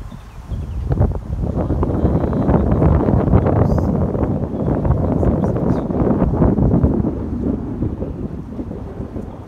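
Wind roars and buffets outdoors, a continuous low rumble of gusts against the microphone that swells and eases over several seconds.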